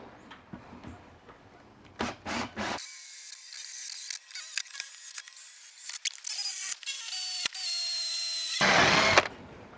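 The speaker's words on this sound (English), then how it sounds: "we'll start up one end and we'll run the drill through for all the holes" A power drill whirs in several bursts while drilling holes for a 4x4 roof rack, a long steady high-pitched run in the middle, with clicks and clatter between drilling passes.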